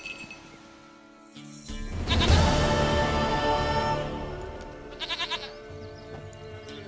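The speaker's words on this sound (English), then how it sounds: "Goat of mine, dearest, sweetest goat" A goat in The Witcher 3 Wild Hunt bleats loudly in one long wavering cry, followed by a shorter trembling bleat over quiet game ambience.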